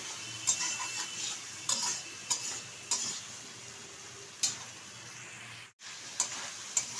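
Poppy seed paste being stirred in a pan for aloo posto, a low sizzle broken by regular spatula scrapes and taps against the pan every second or so.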